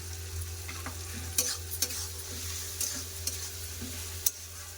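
Tomatoes frying with ginger paste in a pan for cholar dal, stirred with a steady background sizzle and a few sharp scraping clicks of the utensil against the pan, no voices.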